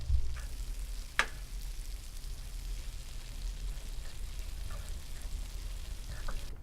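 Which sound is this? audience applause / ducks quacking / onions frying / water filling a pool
onions frying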